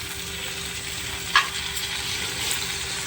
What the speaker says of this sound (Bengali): এবার আমি একটু টমেটো কুচি আর সোয়া সস আর টমেটো সস আমি দিয়ে দিলাম। ভালো করে একটু নেড়ে নেবো।